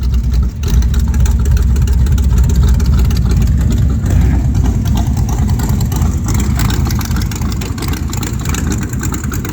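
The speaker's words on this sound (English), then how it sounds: "cold start. Let's see if it'll start up." A ratrod truck with an exposed engine fires up on a cold start and settles into a loud, steady idle, its rough low rumble running continuously up close with slight surges in level.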